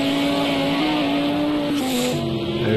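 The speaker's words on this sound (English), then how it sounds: "I have noticed that the car engine noises were very loud compared to where they were before" Loud, continuous engine drone of GT3 racing cars in Project CARS 2 at Brands Hatch, a steady tonal whine that holds pitch, dips slightly as gears shift, then climbs again near the end.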